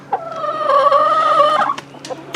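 A close, loud call from a free-range chicken, a drawn-out tonal cry of about a second framed by short clucks.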